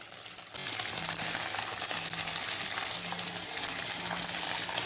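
Scrambled shark fish mixture frying over a low flame gives a steady, close sizzle that starts abruptly after a brief quieter moment and continues evenly throughout, with faint stirring.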